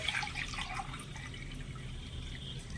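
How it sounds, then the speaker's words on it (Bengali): Water pours steadily into a bowl in a home kitchen, a soft continuous trickle and splash lasting a few seconds with no voices, before salt and turmeric are stirred in for soaking jackfruit. "বাটির মধ্যে নিয়ে নিচ্ছি কিছুটা জল"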